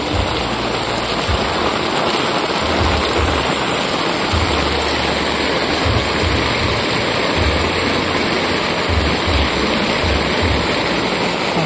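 Floodwater from a flash flood rushes loudly and steadily down a road in Ubaliw, Polangui, Albay, Philippines, a continuous broadband roar with low rumbling surges throughout and no talk over it.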